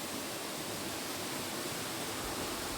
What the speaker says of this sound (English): And to sit by that waterfall and not say a word,